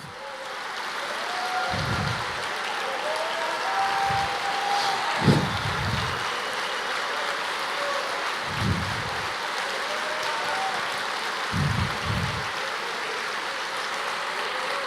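A church congregation applauds steadily through a sermon, a dense continuous patter of clapping with a preacher's voice breaking in now and then.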